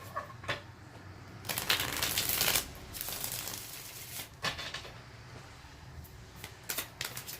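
Tarot or oracle cards are shuffled at close range, in soft papery riffling bursts separated by short pauses during a quiet astrology love reading.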